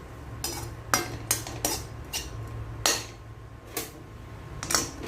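A metal spoon scoops cooked semolina gujiya filling into a metal pot, giving a string of irregular sharp clinks and scrapes close up, with no talking.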